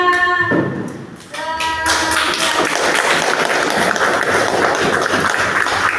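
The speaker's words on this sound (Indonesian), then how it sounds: "Ya, tepuk tangan buat namanya." Classroom audience applauding together, a dense burst of many hands clapping that starts after a brief pause and continues steadily, fairly loud and close.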